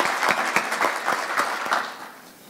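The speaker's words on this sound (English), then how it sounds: "give them a round of applause and thank them for their support" A small audience at a morning community breakfast gives a brief round of applause, distinct individual claps audible in the mix, fading off toward the end.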